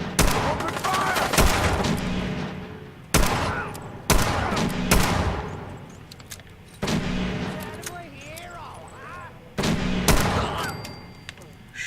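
Gunfire in the video game Wasteland comes in several sharp, loud volleys of rapid shots separated by short pauses, with a few clicks between the bursts.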